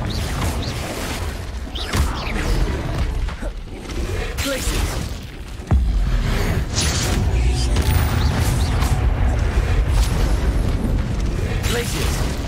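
Confringo spell blasts in the video game Hogwarts Legacy, a continuous loud barrage of booms and bursts that swells sharply partway through, with voices shouting amid the din.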